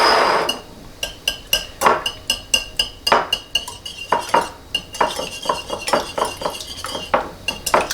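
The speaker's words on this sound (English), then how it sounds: "Now I'm going to lightly whisk those 2 eggs" A whisk beats two eggs in a bowl, making quick, rhythmic metallic clicks and scrapes against the sides, close and steady throughout.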